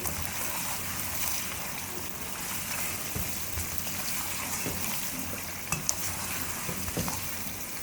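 Steady frying sizzle of korma masala in a pan, a dense continuous hiss with a few soft stirring knocks, no voices.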